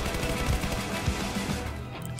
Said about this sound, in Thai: ยิงอย่างเดียว ยิงให้หมดเลย